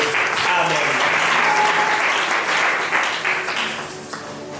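A church congregation applauds in a broad, sustained wash of clapping that holds steady and slowly thins toward the end, with voices mixed into the crowd noise.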